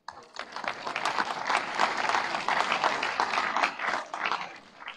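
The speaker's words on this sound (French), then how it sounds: "On applaudit." A church congregation bursts into sustained, dense applause that carries on at full strength for several seconds, filling the room evenly.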